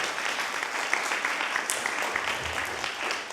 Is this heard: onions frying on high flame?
no